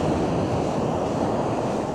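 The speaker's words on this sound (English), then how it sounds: "just be mesmerised by the sound of the waves" Waves break and wash up the shingle at Cogden Beach on the South West Coast Path, a loud, continuous roar of surf with gusting wind over the microphone and no voices.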